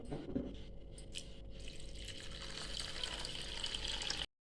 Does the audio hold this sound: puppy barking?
no